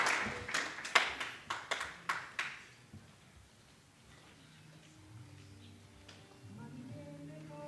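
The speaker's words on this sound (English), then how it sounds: "May we give them a round of applause" A university public health division launch audience gives a short burst of scattered hand claps that fades within a few seconds, followed by quiet room murmur and faint talk.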